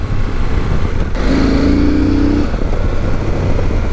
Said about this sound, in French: Quand on ouvre un peu, on a la boîte à air qui émet une espèce de grondement.